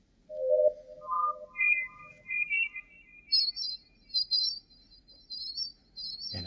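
A human voice pitch-shifted very high imitates birds, giving a series of thin whistling chirps that step upward in pitch across several short phrases, clear and close against quiet surroundings.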